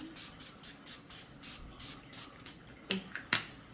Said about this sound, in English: Now I'm gonna use my Urban Decay All Nighter Setting Spray.